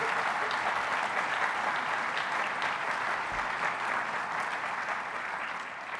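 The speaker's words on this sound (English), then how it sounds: "I'll just ask you to give them a round of applause" A sustained round of applause fills an audience hall at an evening event on the future of terrorism, dense and even throughout before easing slightly at the end.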